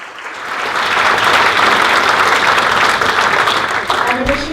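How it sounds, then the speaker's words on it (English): At a school sport event, an audience warmly applauds award winner Lindsay Gaze, a thick wash of clapping that builds quickly from a quiet start and stays loud and even to the end. "Please give Lindsay Gaze a very warm round of applause"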